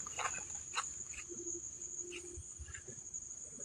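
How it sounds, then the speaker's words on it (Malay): Crickets chirp steadily at night in a Malaysian village, kampung Wak Hassan, a continuous high trill with scattered faint animal calls and rustling in the background. "Kalau bunyi cengkerik main dia dekat."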